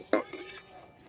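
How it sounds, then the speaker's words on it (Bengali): A spoon clinks and scrapes against a pot while large sago pearls are stirred as they boil, two quick knocks followed by a softer scrape, close and fairly quiet. "সাবুটা অনবরত নাড়তে হবে, সাবুটা সিদ্ধ হওয়া পর্যন্ত"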